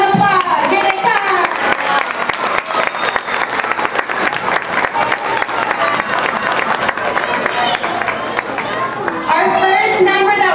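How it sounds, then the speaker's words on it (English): Audience applause at a school holiday show, with dense clapping and crowd chatter running loud and steady throughout before performers come on. "Give a round of applause."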